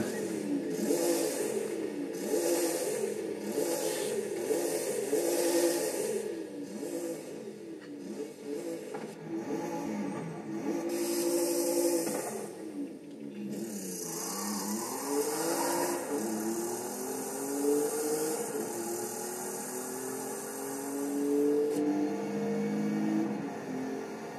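A 2023 Ford Bronco Raptor's engine revs repeatedly in Forza Horizon 5, rising and falling in pitch with a steady rumble underneath, loud and close, with game-like engine tones sweeping up through the shifts.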